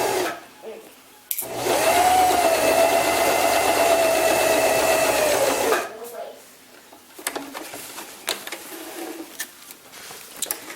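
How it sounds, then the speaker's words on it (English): A sewing machine runs a continuous fast stitching seam on an appliqué stem, a steady whirring hum lasting about four seconds, followed by quieter handling clicks and rustles. "now I'm going to stitch 1/4 inch to an 1/8 all the way down"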